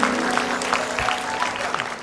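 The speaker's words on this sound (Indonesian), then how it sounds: "Oh, tepuk tangan dulu." Studio audience applause on an Indonesian TV comedy talk show, a steady wash of clapping from the crowd with a faint hum beneath it.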